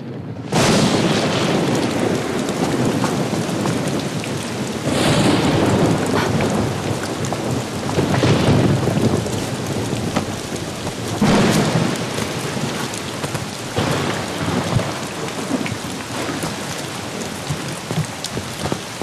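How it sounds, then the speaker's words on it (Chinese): Heavy rain pours loudly and continuously while thunder rumbles several times, with a few louder swells, no voices heard. "下这么大雨你干什么呢"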